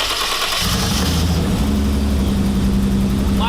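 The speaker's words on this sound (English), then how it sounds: "The engine is able to start, and this is how we do it" The engine of a homebuilt Lamborghini replica cranks and catches in a garage. A brief starter whir settles into a loud, steady running rumble close to the microphone.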